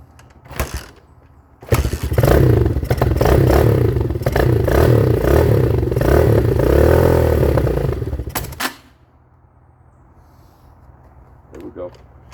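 A 2019 Hawk 250cc motorcycle with a cold carburetor sputters to life and runs loudly for several seconds with the idle raised, uneven and clattery, then cuts out abruptly, followed by quiet clicks and brief handling noises.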